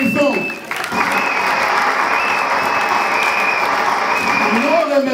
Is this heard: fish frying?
no